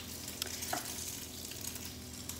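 An egg, cheese and cream omelette mixture fries in a pan with a soft, steady sizzle, low and continuous, with a couple of faint clinks and no voices.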